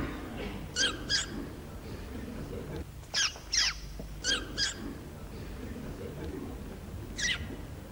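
A voice imitates a zebra call with shrill, squeaky squawks, mostly in quick pairs separated by quiet pauses.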